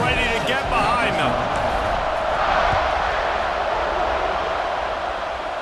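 Stadium crowd noise in the College Football 26 video game, a loud, dense, sustained roar before a kickoff, with some faint voices in the first second.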